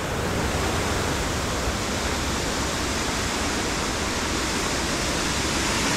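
Steady broadband roar of a waterfall at Snuff Mills, loud and continuous with no break, rushing water filling the whole scene without voices.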